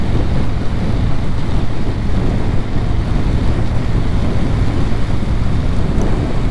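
Heavy rain shower pelting a rider on a moving motorcycle, heard as a dense, loud, unbroken roar of rain and wind buffeting the microphone with no letup throughout.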